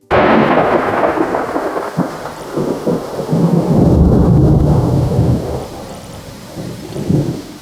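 A loud, close thunderstorm: deep rumbling thunder rolls on and off over steady heavy rain, with no voices.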